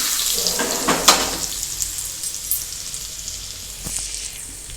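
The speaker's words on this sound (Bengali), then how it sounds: "এবার আমি যে গরম তেলটা আছে এটা আমি ধীরে ধীরে তেলগুলো দিয়ে দেব" Hot oil is poured over meat frying for biryani, giving a steady broadband sizzle with a few sharp splutters near the start and one later, close and moderately loud with no talk.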